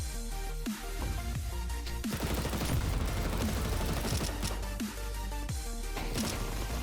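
Rapid bursts of gunfire from the Counter-Strike 2 video game, several sharp volleys and automatic fire spread across the clip, loud and close with faint voices in the background.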